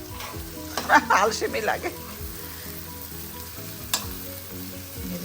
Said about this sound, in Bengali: আজকে একটু পেঁয়াজটা অত বেশি বেরেস্তা করবো না, মোটামুটি এভাবে রাখবো আর কি।